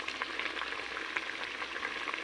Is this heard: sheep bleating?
no